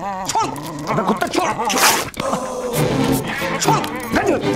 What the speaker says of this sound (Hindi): छोड़ कुत्ते